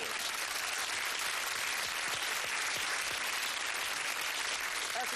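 Studio audience applause on a 1993 British television game show, a dense steady wash of clapping that fills the whole stretch at an even level with no voices over it.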